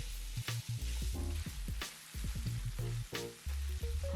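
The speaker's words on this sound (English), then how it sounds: "we need to brown about 6 ounces of ground beef" About six ounces of ground beef browns in a pan for a carnivore recipe, giving a steady, close sizzle and crackle that runs unbroken throughout.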